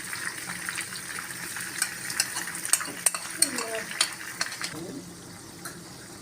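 Eggplant and masala-coated tomato frying together in a pan for Hyderabadi baghara baingan, a continuous hissing sizzle with scattered clinks and scrapes of a spoon against metal, fairly close but soft, no voices.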